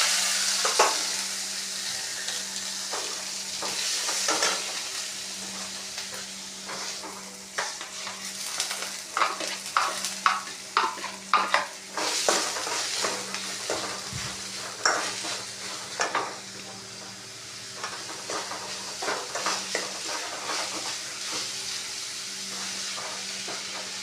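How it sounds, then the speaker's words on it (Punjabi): Chopped onions and green chili fry in an open pan, a continuous close sizzle broken by repeated sharp scrapes and clatters of a spoon stirring against the pan. "ਲਓ ਜੀ ਪਿਆਜ਼ ਗਏ ਆਪਣੇ ਭੁੱਜ"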